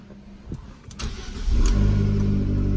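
A car with its original stock exhaust and about 24,000 km starts up with a few clicks and a rising crank, then settles into a loud, steady low idle rumble close by.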